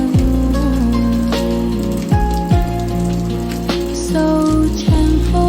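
Steady rain falls at a cafe, a continuous patter with occasional louder drips, mixed under sustained soft tonal music at fairly high level.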